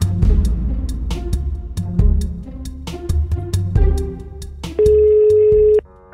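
Telephone call tones in a comic ad for a phone package. Busy, percussive sounds lead into a steady electronic beep that holds for about a second near the end.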